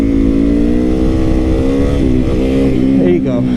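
A motorcycle in second gear pulls away hard for a wheelie, its engine droning loud and steady, rising slightly in pitch partway through against heavy wind rush.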